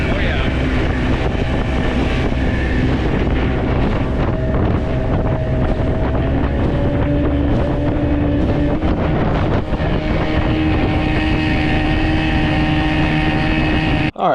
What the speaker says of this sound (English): motor's running pretty decent, so let's send it